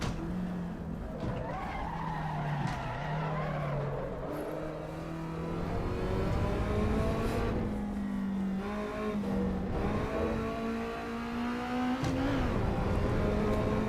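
A car in Assetto Corsa EVO early access revs and shifts with a rising and falling engine tone, mixed with tire squeal and skidding, loud and continuous.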